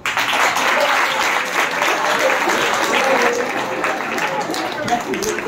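Students clapping together in a school science-experiment session, a dense, steady round of applause that runs the whole clip at close range, with voices mixed in.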